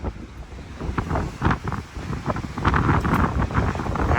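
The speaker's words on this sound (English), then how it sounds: "we're getting a little bit of wind from the hurricane after it's passing by, going away from the coast" Gusty wind from a passing hurricane on a Florida coastal trail, buffeting the microphone in uneven, rushing surges with a low roar beneath and no voices.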